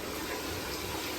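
Water runs from the taps of a bathtub in a remote forest service cabin in Southeast Alaska, a steady broad rushing flow, close and continuous, with no talking.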